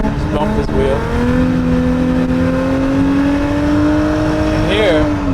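A car drifts across an icy track while the driver left-foot brakes, its engine droning and shifting pitch as it slides, loud and close with some surface noise underneath.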